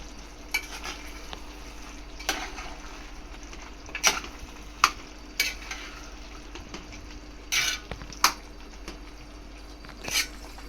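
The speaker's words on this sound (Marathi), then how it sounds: "एकदा परतून घ्यायची व्यवस्थित." Mixed vegetable bhaji stir-fried in a pan over low heat, with quiet background sizzle and sharp, irregular scrapes and clinks of a spoon against the pan, close and without talk.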